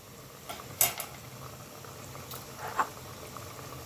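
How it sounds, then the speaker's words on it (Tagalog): Coconut milk boiling in a pot with eggplant gives a faint, steady bubbling hiss, broken by a few small pops and soft clicks, with no voices over it. "kumukulo ng aking gata"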